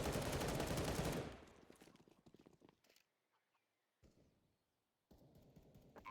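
AK rifle fire in a competitive Counter-Strike match sounds as a loud, rapid burst of shots up front, then cuts off into quieter, sparse in-game clatter and short bursts of noise.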